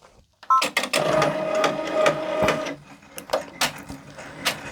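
A Brother embroidery machine stitches a sweatshirt, producing a steady mechanical whir with a faint tone and sharp periodic clacks, near and fairly loud, continuing after the hum drops away.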